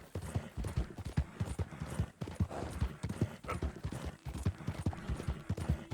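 Horse hooves gallop in a quick, steady rhythm of thudding beats, fairly close and continuous with no voices, from the video game Red Dead Redemption 2.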